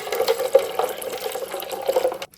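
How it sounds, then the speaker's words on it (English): About 200 ml of coconut water pouring into a container, a close, gurgling liquid stream with small splashy bubbles lasting a couple of seconds before stopping. "So I'm gonna do probably 200 ml of coconut water"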